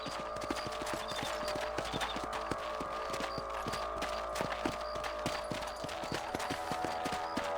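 Steady, rapid hoofbeats of a horse ridden across a ranch in Red Dead Redemption, the clip-clop rhythm even and close throughout, with no talk over it.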